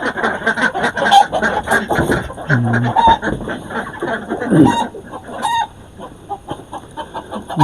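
Chickens clucking and squawking nearby, a rooster's crow rising out of the flock, with a voice speaking underneath.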